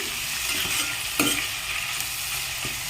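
Prepared masala spices fry in hot oil for an egg masala curry, giving a steady, close hiss of sizzling with a few soft spoon clinks against the pan.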